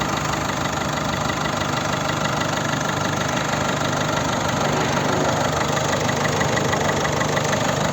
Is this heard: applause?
no